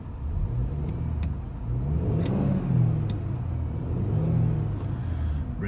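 A 2009 BMW E93 320i M-Sport convertible engine revs up and settles back twice in a row, with a rising and falling mid-pitched roar close by.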